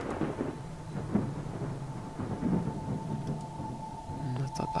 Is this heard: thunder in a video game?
yes